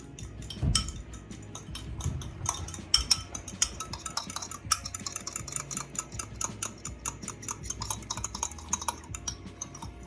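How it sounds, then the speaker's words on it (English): A salad dressing is stirred in a bowl with a utensil, making a steady run of quick light clinks and taps against the bowl that keeps going for several seconds, close and moderately loud, with no talk. "And then you stir her up. Nice little stir."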